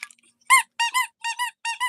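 A squeaky dog toy squeaks repeatedly in short, high-pitched bursts, mostly in pairs with brief gaps, loud and close with no talking.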